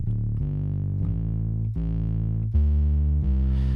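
Distorted synth bass in Ableton Live, run through an amp and a filter, plays a sequence of sustained, heavily driven low notes that change every half second or so, loud and alone.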